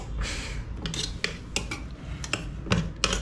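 Food being stirred in a pot after a splash of water, with a metal spoon scraping and clinking against the sides in irregular close strokes, no talking.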